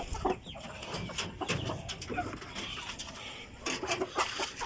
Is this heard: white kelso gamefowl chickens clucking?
yes